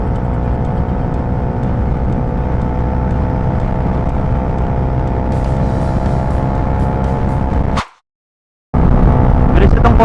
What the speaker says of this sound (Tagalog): Tambutso tsaka hangin.